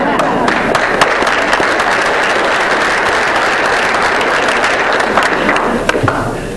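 An audience at an annual board meeting claps steadily in a dense, continuous round of applause lasting several seconds, with scattered individual claps standing out.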